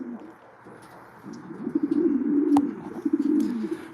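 A racing pigeon hen coos in a loft with soft, repeated low throaty rolls that swell louder midway, joined by a brief sharp click and faint background chirps from other birds.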